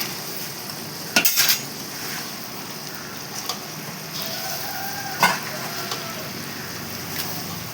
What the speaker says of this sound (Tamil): பீன்ஸ் நல்லா வதக்கு.